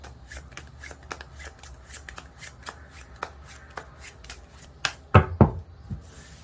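Tarot cards are shuffled close by with a series of crisp riffling flicks, followed by a few louder slaps and rustles as a card is drawn.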